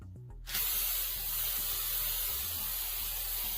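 An aerosol spray paint can hisses steadily as a final coat goes onto glass bottles, a loud, close, continuous spray that starts abruptly after a few faint clicks.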